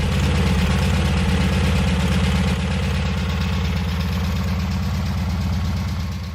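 A Volkswagen Beetle 1300S engine idles steadily with a rhythmic, loping staccato clatter and a throaty, buzzing pea-shooter exhaust note, loud and close, with no voices.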